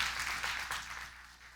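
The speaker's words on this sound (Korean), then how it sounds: "손 들어주시면 박수로 환영하겠습니다" A church congregation applauds to welcome visiting families, a steady wash of many hands clapping at a moderate distance that fades slightly toward the end.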